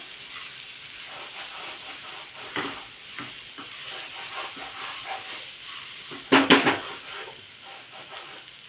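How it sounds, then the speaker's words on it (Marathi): Moong beans, green chilies and tomatoes roast in a pan with a steady close sizzle and hiss, broken by a few clattering stirs partway through. "आता हे मुगाचे दाणे मिरच्या आणि टोमॅटो छान भाजून तयार झाला आहे"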